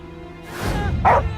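A dog in the game The Inquisitor lets out a couple of sharp barks close by, a short low woof followed by a louder, brighter bark over a murmuring background.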